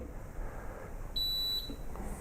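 A single steady electronic beep from a machine calibrating for a tennis racket quality-control test sounds for about half a second, thin and high-pitched, over a faint hum with no talking.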